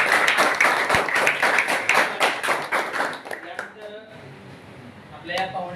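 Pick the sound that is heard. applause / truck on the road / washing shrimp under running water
applause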